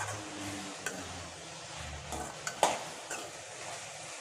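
Eggplant sautés in oil with a soft, low sizzle, broken by a few light clinks and scrapes of a spoon against the pan.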